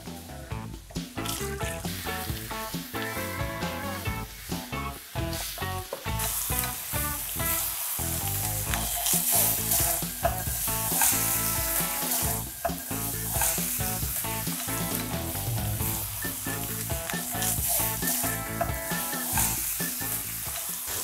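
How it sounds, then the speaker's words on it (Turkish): Beef ribs sizzle loudly and continuously as they sear in a hot pan, a dense crackling fry with occasional scraping and shifting, heard up close without talk. "Gördüğünüz gibi dana kaburganın her bir köşesini güzelce kızarttım."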